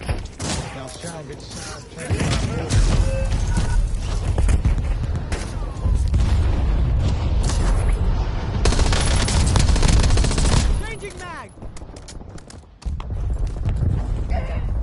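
Sniper gunfire rings out in a video game, loud sharp shots and bursts over a dense roar of in-game noise, with a brief quieter gap before the din resumes.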